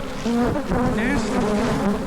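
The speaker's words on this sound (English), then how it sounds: "We got some serious bee action down here too." Africanized killer bees buzz in a dense, steady drone close by, the wavering hum of many insects filling the air without pause.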